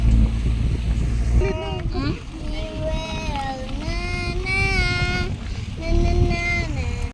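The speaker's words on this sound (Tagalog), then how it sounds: "Oh, very windy. Very windy here, oh." Strong wind buffets the microphone on a mountainside, a steady low roar that swells and dips throughout, with people talking over it.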